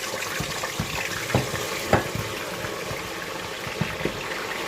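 Spring onion frying in oil for fried rice, a steady soft sizzle with a few light clicks and stirring taps scattered throughout, close by with no voices.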